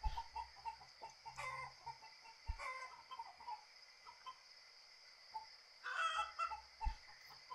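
Chickens cluck in the survival video game Survive the Nights: scattered, short clucks and squawks come over a steady game ambience, with a louder burst near the end and no talking.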